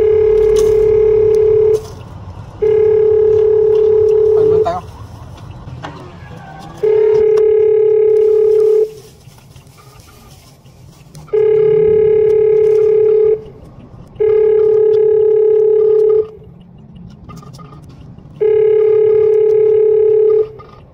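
Phone ringback tone on an outgoing call that nobody answers, a steady electronic tone repeating in evenly spaced bursts of about two seconds with short gaps, loud and close. A voice is heard briefly in one gap.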